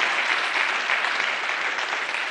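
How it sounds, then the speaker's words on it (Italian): Steady, dense applause from a live audience at a comic Sardinian poetry and song show, a continuous wash of clapping at even loudness throughout with no voices above it. "Qui ci va l'applauso."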